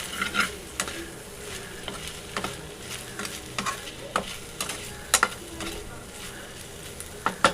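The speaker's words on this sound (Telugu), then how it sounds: "ఒక టూ మినిట్స్ వేయించుకుంటే సరిపోతుంది" Gobi manchurian cauliflower pieces fry in oil in a home kitchen pan with a steady soft sizzle, punctuated by repeated stirring clinks and scrapes of a spoon against the pan, close and moderately loud.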